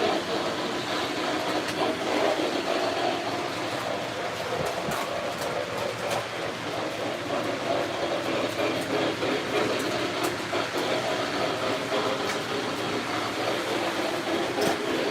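Model train cars, including box cars, roll steadily along a track with a continuous rumbling clatter and faint clicking, unbroken for the whole stretch with no voices.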